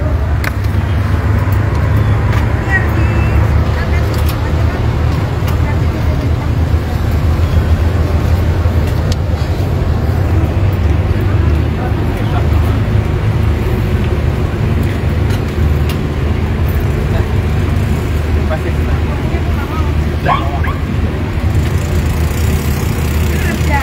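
A heavy-equipment tractor engine runs loud and continuous with a low, steady idling rumble, on a drizzly outdoor site at the Mandalika circuit, while people talk over it.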